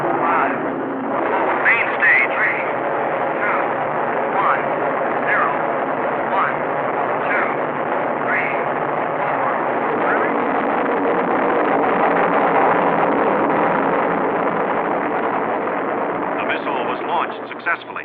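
An Atlas ICBM rocket engine ignites and launches in 1957, heard as a sustained, dense roar on an old film soundtrack, with a countdown voice over it at the start.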